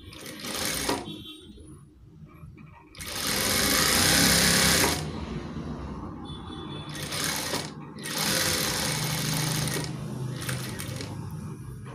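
A sewing machine stitches a saree blouse with a quarter-inch seam allowance, running in three loud, close bursts of rapid whirring separated by short pauses.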